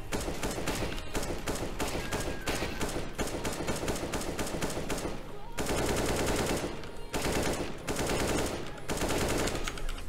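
Rapid automatic gunfire in CS:GO, loud and close, with dense bursts of sharp cracks and brief pauses between sprays that continue for about ten seconds.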